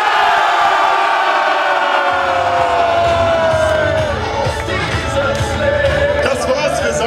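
A crowd cheering and whooping together at a men's rowing league awards ceremony in Duisburg, loud and dense, swelling into a sustained roar of many voices with shouts over the top.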